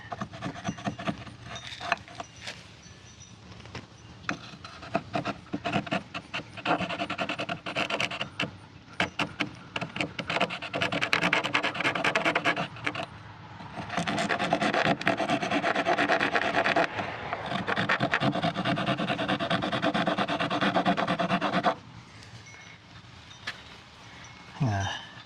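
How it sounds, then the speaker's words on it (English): Hand filing and rough-grit sandpaper rubbing a freshly drilled mounting hole for a Trailer Vision SB50 flush mount trailer connector, a steady scratchy rasp of repeated strokes up close, loudest through the middle stretch before stopping. "Get my files, sandpaper. Using the really rough side first."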